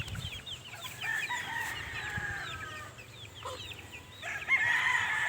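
Game farm rooster crowing with drawn-out calls and clucking from other fowl around it, moderately near over a steady low farm hum, with no talk.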